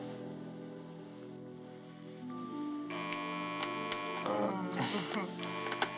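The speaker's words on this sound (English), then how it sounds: "the telephone's ringing" A telephone rings in a room, its repeated electronic tones sitting among music and other sounds rather than standing clearly alone.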